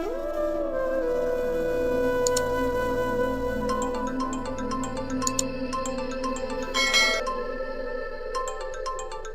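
A phone rings repeatedly with no answer, a melodic electronic ringtone playing its looping tune over a sustained droning tone, with bright chiming notes stacking up midway and continuing unbroken to the end.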